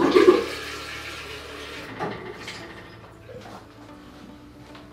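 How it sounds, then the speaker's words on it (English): Water splashes and pours out of a watercolour painting water container in a short gush, then trickles and drips away quietly over a low background hum. "So I'm just going to tip it out again,"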